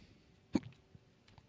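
A single sharp hiccup, close and fairly loud against a quiet background, followed by a couple of faint throat sounds.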